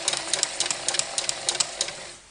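A sewing machine stitches through paper ephemera for a journal, a quiet rapid run of needle clicks in uneven bursts that slows and stops at the end.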